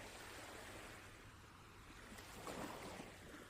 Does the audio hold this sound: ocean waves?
yes